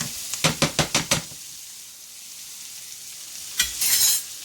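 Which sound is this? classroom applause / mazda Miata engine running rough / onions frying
onions frying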